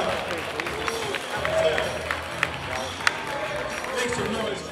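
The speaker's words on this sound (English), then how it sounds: "Clap it up for the faculty. Make some noise, show some love." Crowd at a breakdance battle final claps and cheers in a steady, broad wash of applause with scattered shouts, while a voice talks over the noise.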